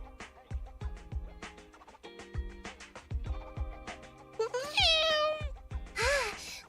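A cat meows several times in the video game Zenless Zone Zero, the calls rising into longer, drawn-out cries over plucked, rhythmic background music.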